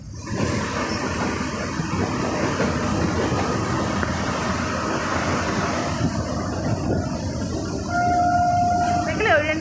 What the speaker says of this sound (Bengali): এটা আর একটা ট্রেন পাস হচ্ছে